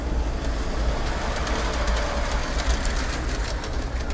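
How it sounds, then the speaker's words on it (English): A free miniature train at a children's medical center in Dallas runs past, giving a steady rumbling roll with faint rhythmic clicking across the whole stretch, close and fairly loud. "Oh, there is the train through the hole."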